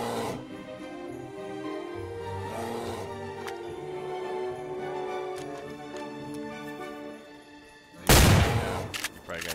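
Gunshot in the DayZ video game on PS5: one loud, sharp shot bursts out near the end, cutting through a steady, quieter humming backdrop.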